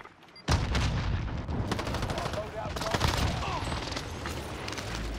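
Rapid bursts of gunfire ring out in the video game Call of Duty Cold War Warzone, loud and dense shots rattling continuously after a sudden onset, with game effects mixed in.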